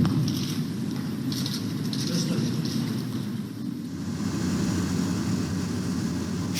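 Steady, broad engine roar of an airplane waiting before takeoff, heard continuously from inside or nearby at moderate loudness, with no clear talk over it.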